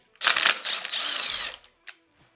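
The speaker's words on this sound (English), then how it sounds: "don't take your big impact, get you your little small impact, run it down" A small impact wrench runs a bolt down on a junkyard Ford 460 big block engine, one loud buzzing, rattling burst lasting about a second and a half, then a couple of brief clicks; no talking.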